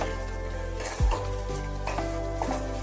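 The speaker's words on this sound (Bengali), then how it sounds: "বেটে রাখা মশলাটা এবার দিয়ে দিচ্ছি।" Ground spice paste of sesame, poppy seed and cashew stirred into frying vegetables for posto paneer, a steady sizzle with a thud of paste landing near the start and light scraping strokes after, no talk.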